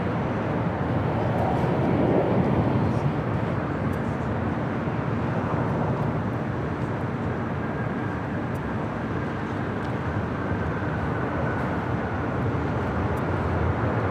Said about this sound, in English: This arrival is United Airlines 1960 coming in from San Francisco on the